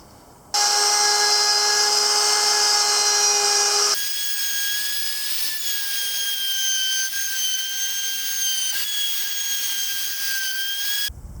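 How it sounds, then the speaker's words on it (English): Router on a homemade sled flattening a scrap-wood guitar body: a loud, high steady whine that starts abruptly, then settles into a lower continuous cutting drone as the bit works across the surface. "the idea is the router sits in here, can go up and down here, and then this sled can move across and you can cut the whole surface"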